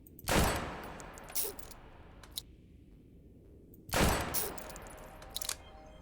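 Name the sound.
gunfire from the Maggie gun in the video game Phantom Proxy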